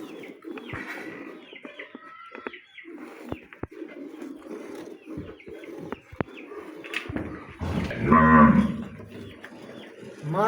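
A Friesian heifer moos at a farm sale, a loud drawn-out bellow rising near the end, with scattered bird calls and other livestock sounds around it.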